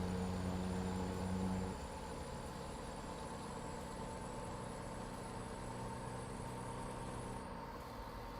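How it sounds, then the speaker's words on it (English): Modded high-horsepower truck engine idling in the American Truck Simulator game, a steady low rumble with a brief louder tonal hum at the start, then an even drone with no speech. "So it comes with the engines that give you all that extra horsepower, and they sound like that, right?"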